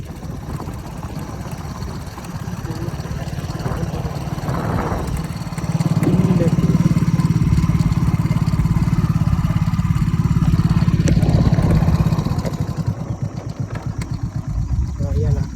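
Motorcycle engine idling close by in a muddy rural spot during the rainy season, a steady rumble that grows louder for several seconds and then eases back, with talk faintly underneath.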